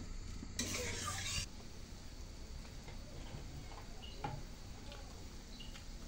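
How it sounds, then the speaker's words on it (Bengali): Water boils in a cooking pot for a home fish recipe, a continuous bubbling hiss with a brief louder sizzling burst near the start, then steady simmering with faint clinks. "জল ফুটে উঠেছে বন্ধুরা"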